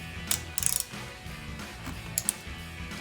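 Bleeder bolt on a rear brake caliper of a Mustang EcoBoost being cracked open and snugged back with a wrench, faint quick ratcheting clicks in two short bursts near the start and one more later, over quiet background.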